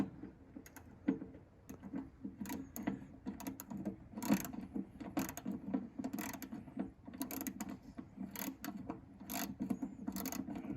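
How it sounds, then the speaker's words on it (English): A Koken compact 3/8 inch ratchet clicks close up in quick, fairly regular bursts of sharp pawl ticks, fairly quiet, with no talking. "It's even looser than it was before because it's not ratcheting as hard"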